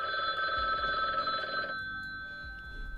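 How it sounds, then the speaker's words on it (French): A phone ringtone plays as a steady melodic electronic tone, clear and fairly close, with layered notes that thin out partway through while background sounds continue faintly. "Mais du coup, j'aime ta sonnerie."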